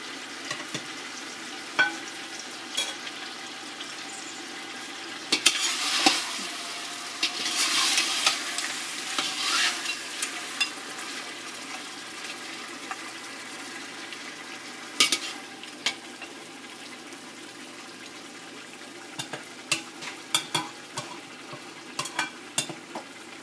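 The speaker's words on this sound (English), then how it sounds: "We're just going to stir the pieces of meat" Pieces of meat for nihari stirred in hot oil or ghee over a high flame: a steady low sizzle with scattered scrapes and clinks, swelling into a louder hiss around the middle, then quieter stirring knocks, with no talking.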